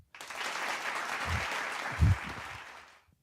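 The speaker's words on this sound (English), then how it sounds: "I humbly accept your applause" Steady applause from a late-night comedy show audience, dense clapping that rises quickly, holds for about three seconds with a brief swell near the end, then cuts off.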